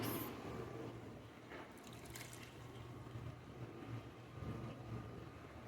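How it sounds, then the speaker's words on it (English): Frappuccino mix poured into a cup already coated with caramel syrup for a Halloween Dracula's Kiss coffee drink, making a steady, soft liquid rush that continues throughout with no talking. "Now we're going to pour in the Frappuchino mix."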